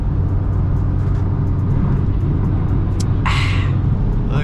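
A car with a built transmission and custom tune cruising on the road, giving a loud, steady low engine and road rumble from inside the car, with a brief hiss near the end.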